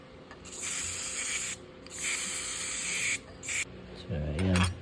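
A can of WD-40 lubricant sprays onto a silver coin in three or four hissing bursts of about a second each, loud and close, with a short rubbing noise at the end.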